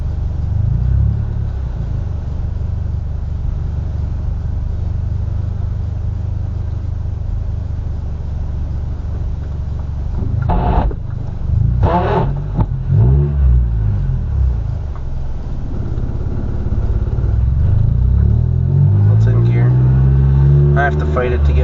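A manual car's engine running in first gear while being driven slowly without the clutch, a steady low idle hum that rises into revving near the end, with someone talking over it and some clunking from the gearbox.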